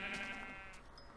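A sheep in the Minecraft video game gives a single short, close bleat, quavering and fading within about a second.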